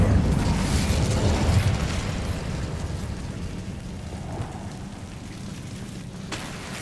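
Incendio fire spell cast in Hogwarts Legacy, a loud whooshing burst of flame that roars and then crackles and fades, with no talking.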